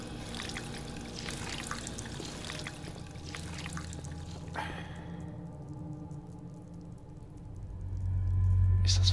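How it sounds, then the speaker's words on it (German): Water gurgles and trickles from a drinking fountain in Fallout 4, a soft running stream for several seconds before it fades, followed by a low droning hum near the end. "Der Trinkbrunnen funktioniert noch."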